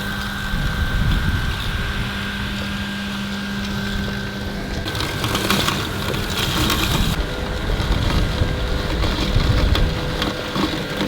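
A LUBA 2 AWD robot lawn mower runs across a lawn, giving a steady low mechanical whir with faint tonal whine, under outdoor wind noise and no talk.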